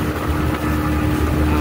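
A speedboat on the Tanguar Haor wetland gives a close, steady engine drone mixed with rushing water and wind noise, continuing without pause.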